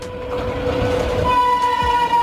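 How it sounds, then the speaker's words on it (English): A container freight train passes close by, a loud, continuous rumble of rolling wagons with a steady horn tone sounding over it. "Container train. A freight train designed to carry large containers, typically used for transporting goods over long distances."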